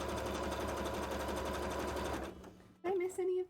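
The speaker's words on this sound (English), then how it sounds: "I did kind of sew right next to the edge" A sewing machine stitches cosplay pants fabric in a fast, steady run for a little over two seconds, then stops, followed by brief sounds of handling.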